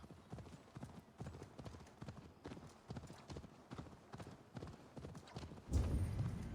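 Horses galloping in Assassin's Creed Valhalla, steady rhythmic hoofbeats pounding throughout at moderate volume, ending with a louder rumbling surge of movement near the close.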